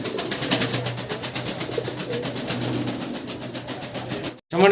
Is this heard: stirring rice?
no